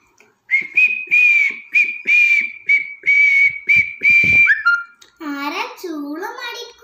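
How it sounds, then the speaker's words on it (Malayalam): A person whistles a lively tune in a string of short bright phrases, close and clear, followed by someone speaking. "ആരാ ചൂളം അടിക്കുന്നത്"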